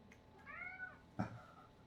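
A single indoor cat meows with a short rising-and-falling cry, followed by a soft thump. Quiet and close, with no talk over it.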